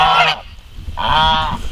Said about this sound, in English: there's the geese over there. They're making tons of noise.